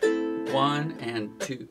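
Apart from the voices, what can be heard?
No everyday noise stands out behind the speech.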